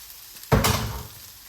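Vegetables and onions for a plant-based spinach lasagna hit a hot pan with an abrupt loud whoosh of sizzle that then fades gradually.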